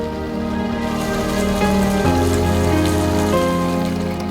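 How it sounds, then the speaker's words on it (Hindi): Rain falls steadily on a surface during a humid day amid a power cut, a constant close patter with faint tonal hum running underneath throughout. "अच्छा हुआ बारिश चलती रही"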